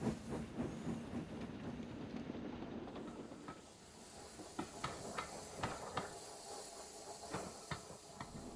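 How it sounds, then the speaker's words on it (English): A steam engine pulls a long express train in the Trainz video game, giving off a hissing rush of steam followed by a series of rhythmic chuffs and rail clicks at moderate distance. "Gordon as he puffed into the distance with his long express train"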